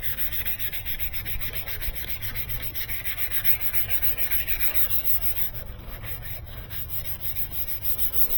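A 2014 Mercedes headlight lens is wet-sanded by hand with 400 grit sandpaper, giving a steady, close rhythmic rubbing scrape that continues throughout.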